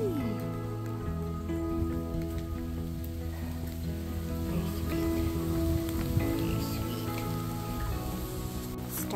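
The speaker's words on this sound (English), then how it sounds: "Started to rain pretty hard now" Steady, dense hard rain pattering continuously on a tree canopy, a constant broadband hiss with a low tonal hum running underneath throughout.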